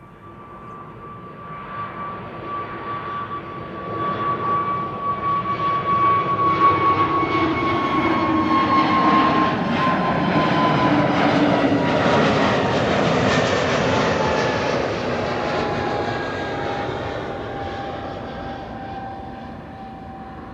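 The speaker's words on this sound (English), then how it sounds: "KLM Flight 1007 to London Heathrow up next. A321neo." A KLM Airbus A321neo takes off from Amsterdam Schiphol for London Heathrow, its engine roar building from a distance to a loud, steady rumble with a clear whine, then slowly fading as it climbs away, with no voices.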